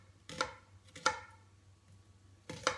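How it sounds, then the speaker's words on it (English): A knife slices shallots on a cutting board in three soft, close, separate strokes, each a brief crisp cut against quiet background hum. "I've kind of started slicing the shallots like that"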